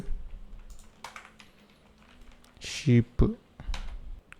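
Soft keystrokes tap on a computer keyboard while someone works in Illustrator, scattered light clicks in irregular bursts running beneath someone talking.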